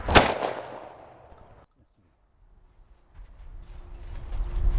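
One sharp, loud shotgun shot at a clay target cracks close by and its echo decays over about a second, followed by quiet rustling and outdoor noise.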